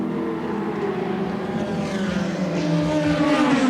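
BMW touring race cars roaring around the Lakeside circuit during an Australian Touring Car Championship round in 1987, a steady loud engine drone with rising pitch as they pass, no talk.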